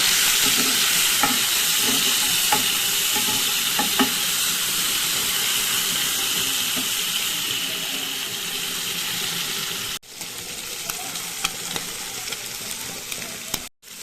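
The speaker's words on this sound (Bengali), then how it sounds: "চিংড়ি মাছগুলোকে ভেজে নেব।" Prawns coated in salt and turmeric fry in hot oil with a constant loud sizzle and occasional spatula taps. After a sudden cut, a slightly quieter stretch of spitting and crackling follows, with no voices.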